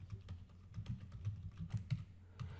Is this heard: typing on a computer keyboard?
yes